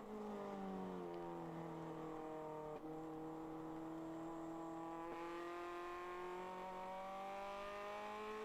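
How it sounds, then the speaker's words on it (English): An endurance race car's engine at Nelson Ledges drops in pitch through quick downshifts, then winds back up steadily, a constant close onboard drone with no talk. "Another downshift."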